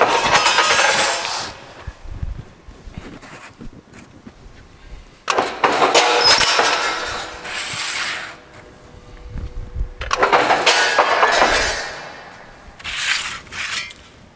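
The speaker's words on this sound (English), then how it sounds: "it doesn't make any noise until you actually activate the shear" A Durma RGM 1303 power shear, 12 gauge by 52 inch, cuts sheet metal with three loud broadband mechanical bursts of a few seconds each, separated by quieter gaps, with no talking.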